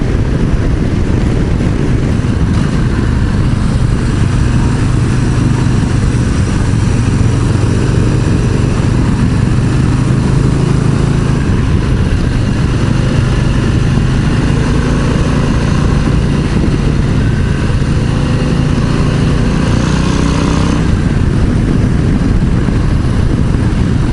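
Harley-Davidson motorcycles, a stock Low Rider ST among them, cruising at highway speed around 3,000 RPM, with a steady loud engine drone and heavy wind rush running continuously throughout.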